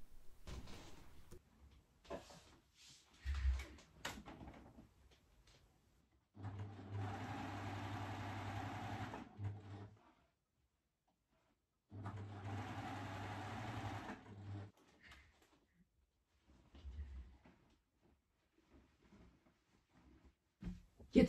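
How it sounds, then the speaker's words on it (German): A sewing machine stitching a shirt neckline runs in two steady bursts of a few seconds each, a soft, even whir at moderate distance. Quieter handling noises come between and around the bursts. "hier rum nähe ich den Halsausschnitt fest"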